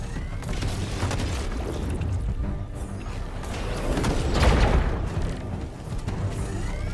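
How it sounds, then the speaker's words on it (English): A spaceship is destroyed in a video game, with repeated heavy booms and rumbling explosions that swell to a loud peak midway, then settle into ongoing blasts. "I think our ship's being destroyed."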